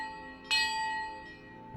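A bell in a Hogwarts Legacy puzzle chimes once with a bright metallic strike and a ringing tail that fades slowly, clear and alone.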